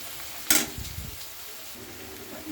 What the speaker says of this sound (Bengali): পেঁয়াজ রসুনটা আবার আমি একবার নাড়িয়ে দিচ্ছি